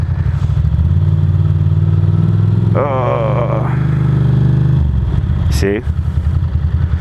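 Ducati Monster motorcycle engine running steadily with a low throbbing rumble, then picking up as the bike pulls away once the clutch is released, with someone talking over the sound partway through.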